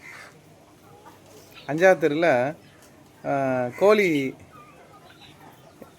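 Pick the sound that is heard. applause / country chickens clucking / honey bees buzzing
country chickens clucking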